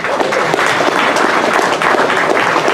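Loud, dense audience applause for a speaker at a tech talk, a steady wash of many hands clapping at once, close and sustained without a break.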